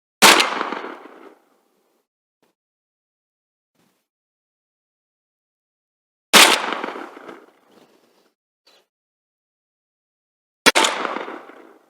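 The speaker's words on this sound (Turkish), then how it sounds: "3 adet saçma attık" Three separate 12-gauge shotgun blasts fired with birdshot shells at a car tire outdoors, each a loud sharp boom with a short decaying tail, spaced several seconds apart with silence between.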